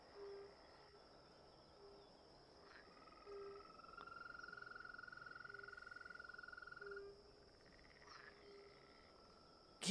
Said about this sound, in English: Thought I could hear bloody frogs.